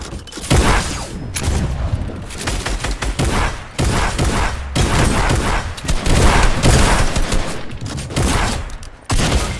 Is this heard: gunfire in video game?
yes